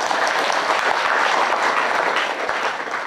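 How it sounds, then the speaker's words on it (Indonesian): A crowd at a religious preaching event applauds, dense continuous clapping from many people filling the space evenly for the whole stretch, with no voices over it. "Tepuk tangan untuk abang handa kita."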